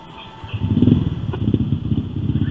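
Yamaha XMAX scooter engine cranking into life from quiet, then settling into a loud, uneven idle whose pulsing beat rises and dips, close to the machine with no talk over it.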